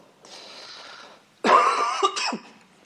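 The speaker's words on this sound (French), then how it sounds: "J'aime pas tousser dans les micros." A man coughs close into a microphone, a faint throat sound first and then a sharp, loud burst of two or three rough coughs in a quiet room.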